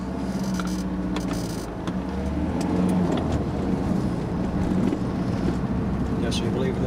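A route 128 bus pulls out of Dewsbury bus station toward Wakefield, its engine a steady, continuous rumble with some rattles and clunks, heard from on board.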